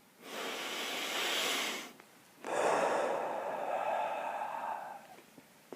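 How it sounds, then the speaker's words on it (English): A slow, deep breathing exercise: a long, steady inhale, a short pause, then a longer, drawn-out exhale, close and airy with no talking. "Take a deep breath"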